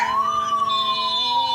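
An ambulance siren wails close by in a jammed city street, one long rising and falling tone over low traffic noise.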